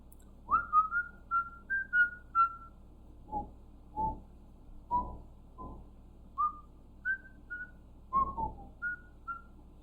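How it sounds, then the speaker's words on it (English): A man whistles a tune by sucking air inward rather than blowing out, producing a string of short, clear, close notes in an uneven melodic rhythm, some sliding, with breathy pulses between phrases and no talking. "My technique's different when it comes to whistling"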